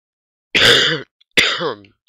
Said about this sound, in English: Sorry for the coughing, I'm sick lately.